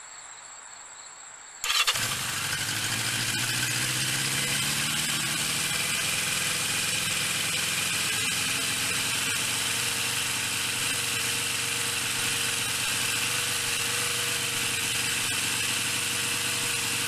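A motorcycle engine starts after its carburetors are refitted, then settles into a steady, loud, continuous idle close by, with no voices.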